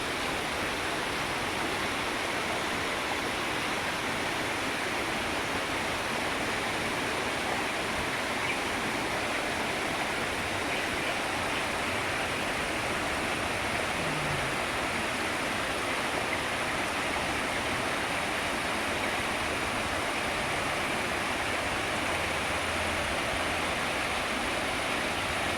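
Khiri Wong waterfall in Lan Saka, Nakhon Si Thammarat, pouring in a steady, dense roar of rushing water that fills the scene without letup, close and even, with no talk.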